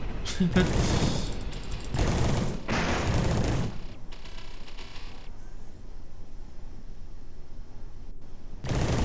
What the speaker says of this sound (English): Let's try the DMR.